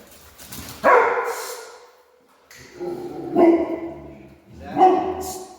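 A dog barks and yips during play with another dog, three separate bursts of loud, near barking spaced over a few seconds.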